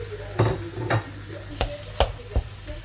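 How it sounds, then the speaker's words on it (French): Minced meat is broken up in a pan with cooked vegetables, a utensil scraping and stirring in several distinct strokes over a steady close sizzle of frying. "Je vais casser ma viande hachée."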